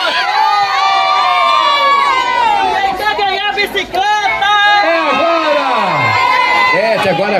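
Children and a crowd shout and cheer together at a bicycle raffle during a Children's Day festival in Mata Escura, a loud, continuous wall of excited voices with rising and falling yells throughout.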